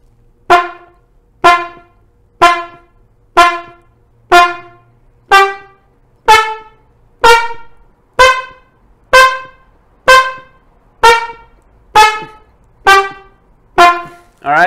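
Fourteen loud, bright trumpet notes come in an even rhythm about one second apart. Each note starts hard and is stopped short with a tongue cutoff, and there is near silence between them.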